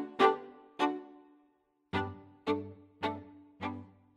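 Six bowed string notes from the Abbey Road Two strings library, recorded on close vintage microphones with added room ambience, each a short swelling stroke with a soft tail, spaced in a slow, even rhythm with a gap in the middle.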